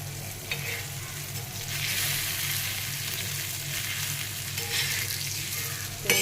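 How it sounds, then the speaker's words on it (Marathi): Bangda (mackerel) fish fries slowly on a low gas flame in a pan, a constant near crackling sizzle with a faint low hum and a couple of brief spatula touches, without speech. "दुसरी बाजूसुद्धा आहे ना स्लो गॅसवर एक दहा मिनटं तरी भाजून घेऊया"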